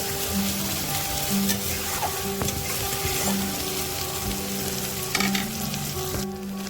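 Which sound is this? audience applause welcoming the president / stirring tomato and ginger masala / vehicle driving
stirring tomato and ginger masala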